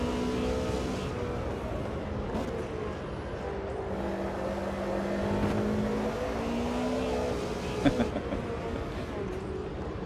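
A race car engine in the sim racing game Automobilista 2 hums and revs continuously, with pitch rising and falling through corners at moderate loudness, and a brief click near the end.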